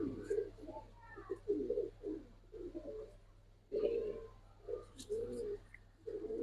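Soft, throaty cooing of a Silver Giribaz pigeon repeats in short bursts, close by and fairly quiet, with a faint hum underneath.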